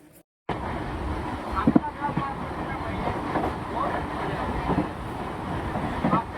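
A commuter train running toward Udhna station near Surat passes on its rails, a steady rumble and clatter with occasional louder bumps throughout, and faint crowd voices in the background.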